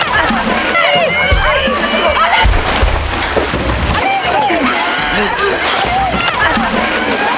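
Water splashes and sloshes heavily as two women grapple violently in a river, one wielding a kitchen knife; churning, loud, continuous splashing with voices and cries mixed in.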